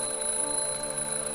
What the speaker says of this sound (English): Turn off the alarm clock.